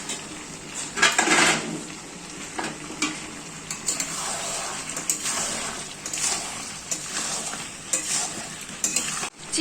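Chicken stir-fried with pre-fried potatoes in a pan, loud sizzling with frequent scraping and clattering strokes of the spatula, close and busy throughout.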